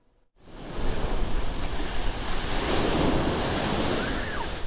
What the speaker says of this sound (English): Waves high enough and strong enough to knock over beachgoers standing on the shoreline